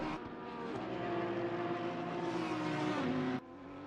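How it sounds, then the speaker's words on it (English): A GT3 race car engine drones loudly and steadily at high revs at Donington Park, shifting down briefly near the end, with no talking. "to listen the engine, the pure engine sound"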